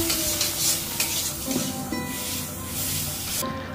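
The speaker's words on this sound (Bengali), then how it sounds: "এই মশলাটাকে কম আঁচেই খুন্তি দিয়ে সুন্দর করে পেঁয়াজের সঙ্গে মিশিয়ে নিতে" A spatula stirs spices into onions over low heat for a Bengali fish-head and rice dish, with steady close sizzling and scraping strokes and brief clinks, and no talking.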